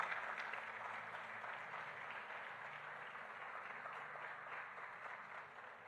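Congregation applauding during a Portuguese-language church sermon; soft, steady clapping that starts at full level and tapers slightly, heard at a distance, with no talk over it.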